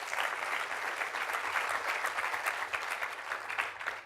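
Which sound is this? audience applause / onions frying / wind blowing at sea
audience applause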